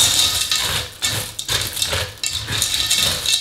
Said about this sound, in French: On va venir un petit peu mélanger.